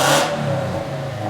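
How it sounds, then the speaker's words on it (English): Car engine with a bolt-on performance modification revving loudly up front, then holding a steady mid-pitched drone for a brief moment. "Give it a rev."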